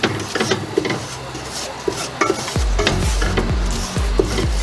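A wooden spoon stirs flour into melted butter for mac and cheese, scraping the pan in quick strokes that turn into deeper, regular thumping pushes, all over a soft sizzle.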